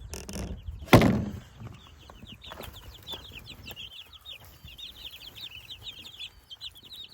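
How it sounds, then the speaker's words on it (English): After a thump, many small chicks peep steadily in a high-pitched chorus, close and continuous, with soft rustling underneath. "I gotta check on the chicks."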